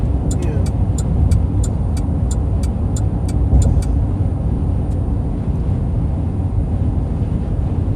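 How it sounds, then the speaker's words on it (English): Steady, loud road noise from inside a car crawling along I-75 at rush hour near Bradenton and Sarasota, a constant low rumble of engine and tires throughout, with a run of regular high ticks like a turn signal early on. "The traffic is really horrendous in Bradenton, ain't it?"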